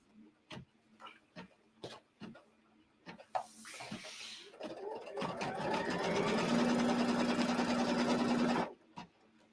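A sewing machine runs a steady stitching burst of about three seconds while sewing green fabric in a quarter-inch seam, preceded by a few light clicks and handling taps, then stops abruptly.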